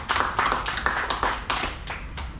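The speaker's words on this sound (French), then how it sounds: "Et applaudissons Mouni." Applause at a public political meeting in Andrésy, a small audience clapping in uneven bursts that swell and fade, fairly close and without talk.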